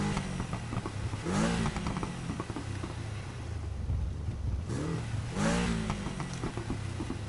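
An inline-four car engine in a video game revs twice in short bursts with a lull between, a close, buzzy engine note over a steady idle rumble.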